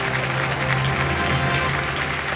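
Studio audience applause on a television quiz show, a dense, steady wash of clapping that stays loud throughout, with a faint voice underneath.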